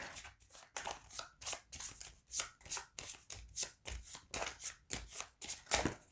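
A deck of game cards is riffled and shuffled repeatedly for the tabletop game Rescuing Robin Hood, producing a rhythmic series of about fifteen crisp, fluttering bursts in quick succession, close and without speech.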